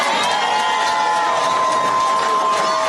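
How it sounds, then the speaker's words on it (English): Large political rally crowd roaring and cheering loudly and continuously, a dense close mass of voices with rhythmic shouting that suggests a chant of USA. "the crowd went on to start chanting USA, USA"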